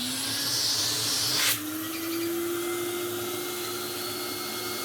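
A 1981 Numatic NV250 vacuum cleaner runs steadily with its hose attached, a constant close drone with a slight pitch rise partway through and a brief burst of airy hiss early on, no talk.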